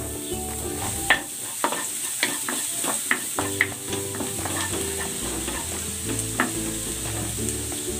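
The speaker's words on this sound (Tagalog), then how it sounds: "Igigisa ko na tong bawang." Garlic sautés in hot cooking oil with a steady close sizzle, broken by a series of sharp spatula scrapes and taps as it is stirred in the pan.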